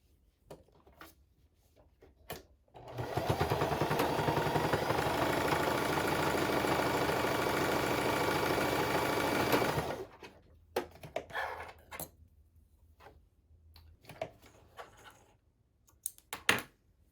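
A sewing machine stitches up the side of a fabric pouch. One steady, loud, whirring run of about seven seconds is set between quieter handling clicks and rustles before and after.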